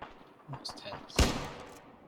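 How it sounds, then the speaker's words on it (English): A flashbang grenade going off in the combat game Arma 3, one sharp, loud bang with a short decaying tail, preceded by faint game noise and voices in the background. "Flashbangs."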